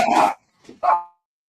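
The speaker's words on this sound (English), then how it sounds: "You've got a dog too." A small dog, one of two little ones at home, gives a loud, sharp bark, then a softer yip and a second loud bark in quick succession, close by.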